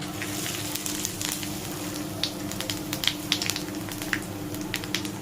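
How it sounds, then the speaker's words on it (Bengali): Bay leaves, dried chilies and five-spice seeds sizzle hard in hot oil, a dense crackling hiss with quick pops scattered throughout, close and steady, with no voices. "বন্ধুরা এবারে তেজপাতা আর শুকনো লঙ্কা ফোড়ন দিয়ে দেবো সাথে পাঁচ ফোড়ন"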